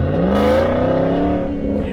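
A twisted naturally aspirated V8 Land Rover Defender accelerating, the engine note climbing in pitch as it revs up, loud and close, then easing slightly near the end.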